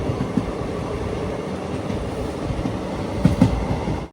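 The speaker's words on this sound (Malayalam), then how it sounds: "കോയമ്പത്തൂരും തിരുപ്പൂരും കഴിഞ്ഞ് ട്രെയിൻ ഇതാ ഈറോഡ് റെയിൽവേ സ്റ്റേഷനിലേക്ക് തിരികെയാണ്" Steady rumble and clatter of a passenger train riding the rails toward Erode railway station after Coimbatore and Tiruppur, heard from on board, with a couple of louder knocks near the end.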